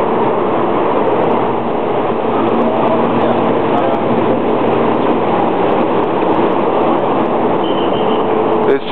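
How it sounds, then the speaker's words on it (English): A Taiwan High Speed Rail train produces a steady, loud, continuous rumble and rolling hum from inside the carriage, unbroken for the whole stretch. "This train has stopped."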